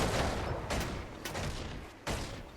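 Citadel Bombardment, a Revenant skill in the video game Guild Wars 2, rains down as a series of booming impacts, three or four heavy blasts spaced irregularly over a dense, rumbling barrage.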